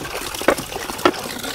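Things being washed together under running water, a soft continuous trickle and splash with two brief louder sploshes, close, with no talking.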